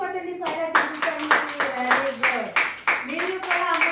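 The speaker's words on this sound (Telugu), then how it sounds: "క్లాప్స్ కొట్టండి." Children in a classroom clap their hands in a steady rhythm, about nine sharp claps over a few seconds, mixed with voices chanting along.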